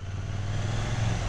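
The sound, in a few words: KTM Duke 790 motorcycle exhaust sound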